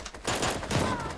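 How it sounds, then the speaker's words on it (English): Dense shotgun fire in a multiplayer video game match, a burst of overlapping blasts with some faint speech underneath. "Darn shotgun."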